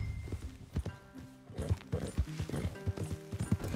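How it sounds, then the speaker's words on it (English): Horses from Red Dead Redemption 2 walk with steady, fairly close clip-clop hoofbeats in an uneven rhythm, with a faint whinny and no talk over them. "Leave the horses in the trees there."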